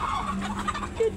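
A turkey on a small farm gobbles close by, a loud burbling call under a steady low background hum and faint chirps.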